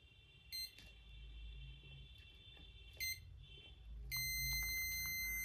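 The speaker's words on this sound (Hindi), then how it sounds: "ये बीप साउंड इसलिए दे रहा है क्योंकि ये रेजिस्टेंस 50 ओम से कम है" A multimeter gives a continuity beep while testing a resistor below 50 ohms: brief high-pitched beeps at first, then a steady sustained tone, over a faint low hum.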